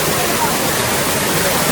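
Water pours out from rocks at a waterfall in a natural setting, producing a loud, continuous broadband rush close by that masks any voices.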